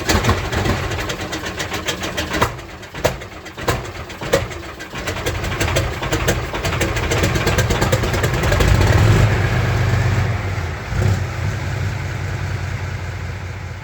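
A Soviet AT-S artillery tractor's diesel engine idling with a steady, loud low rumble that continues throughout without a break.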